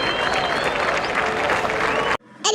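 A burst of dense, loud applause from many hands cuts off abruptly, followed by a brief moment of a voice.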